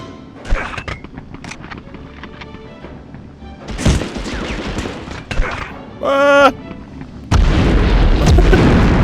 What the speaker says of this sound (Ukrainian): а гранати так пролітають